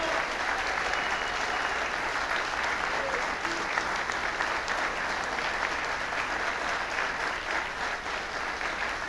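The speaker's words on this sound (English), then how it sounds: "That applause can be heard, I'm sure, by all these great heroes." Sustained audience applause fills the space, a dense even wash of clapping that holds steady without pause from start to finish.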